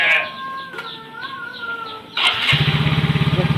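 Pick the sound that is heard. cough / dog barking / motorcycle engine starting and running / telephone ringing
motorcycle engine starting and running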